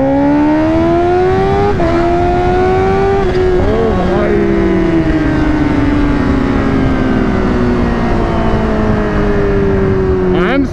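Kawasaki Ninja H2 superbike under acceleration with the throttle opened, a loud, close engine whine climbing through several gear changes over steady wind roar, with a voice speaking over it.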